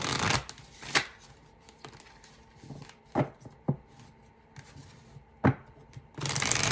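A Moonology oracle deck is shuffled by hand, producing quiet, papery card shuffles with sharper slaps and riffles scattered irregularly throughout.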